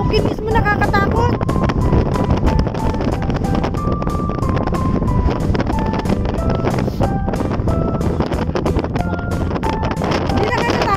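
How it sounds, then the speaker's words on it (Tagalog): Strong wind gusts across a mountain ridge on Dragon's Back, buffeting the microphone with steady roaring noise, while people talk throughout and music plays faintly underneath. "Sobrang lakas ng hangin."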